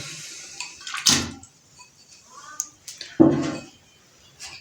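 Pieces of meat dropped into a pressure cooker on a stove, giving two heavy wet thuds with metallic clatter between quieter handling noises, close and moderately loud.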